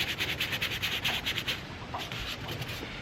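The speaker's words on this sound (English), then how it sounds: "When you're sanding, you gotta make sure you get every little bit, all the little curves." Sandpaper rubbed by hand over the curves of a Jensen GT car hood, a close series of quick, even back-and-forth scrubbing strokes that become softer and less regular toward the end.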